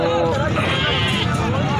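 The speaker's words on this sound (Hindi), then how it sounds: "ये बकरा है जो घास खा रहा है।" A goat bleats close by at a crowded goat market in Karachi, loud and steady over a background babble of people talking.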